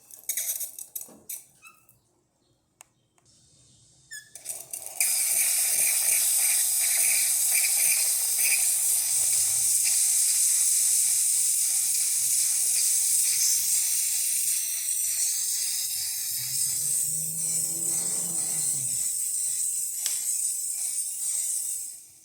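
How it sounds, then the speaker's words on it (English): Rancilio Silvia espresso machine steam wand hissing loudly and steadily after a few seconds of quieter spluttering and clicks as it heats, a broad continuous rush holding to the end. "So let's test the steamer. It takes a bit until it gets hot."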